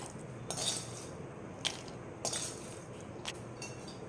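Lotus seeds (makhana) being mixed in a pan, with several light metallic clicks and taps of the spoon against the pan spaced irregularly over a quiet background.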